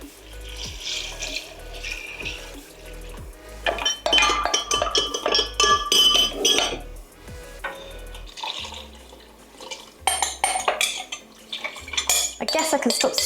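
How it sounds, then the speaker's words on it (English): Metal spoon scrapes and clinks against a pot while chicken and sausage gumbo is stirred, loud rhythmic strokes with sloshing liquid, pausing briefly before resuming. "I guess I can stop stirring shortly as well"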